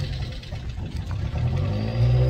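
Race car engines idle and rev in the pits at a Champs of Champions racing event, a steady close rumble whose pitch climbs and swells louder near the end, with no talking.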